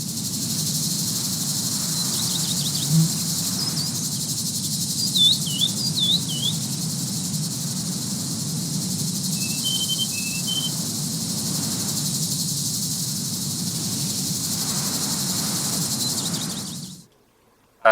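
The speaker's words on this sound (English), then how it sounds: "please take a listen to the crickets" Steady, dense cricket and cicada chirring fills the whole scene at an even level, with a few faint high bird chirps above it, until it cuts off abruptly near the end, in The Witcher 3.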